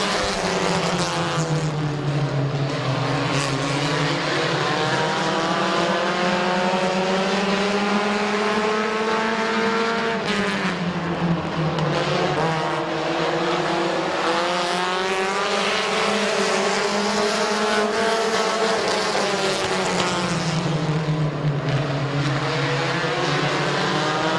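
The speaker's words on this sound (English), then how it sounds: "Lap number 1 is going to go to Van Fossen by an inch." Race cars roar around a dirt speedway track in a continuous, loud pack, engine pitch rising and falling as they pass through the turns, with no gaps in the noise for the whole stretch.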